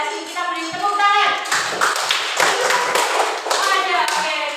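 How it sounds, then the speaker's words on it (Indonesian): A sixth-grade classroom of children claps their hands together in bursts of brisk, close claps, with young voices talking and calling over the clapping. "Kelas ini kita beri tepuk tangan."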